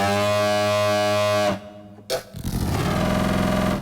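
A harsh, buzzing neurohorn synth bass preset in Phase Plant blares with a gritty, growling tone, cuts off briefly, then returns with a wobbling, distorted texture.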